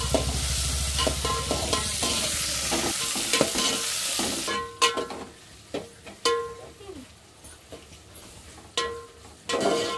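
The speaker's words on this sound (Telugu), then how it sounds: "టమాటా ముక్కలు వేసుకొని మొత్తం అయితే ఫ్రై చేసుకున్నాను" Tomato pieces fry in a home kitchen pan with a loud, steady sizzle. The sizzle then drops away to sharp, irregular clinks and scrapes of a spoon stirring against the pan.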